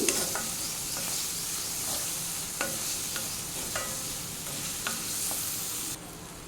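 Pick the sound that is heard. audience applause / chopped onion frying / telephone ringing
chopped onion frying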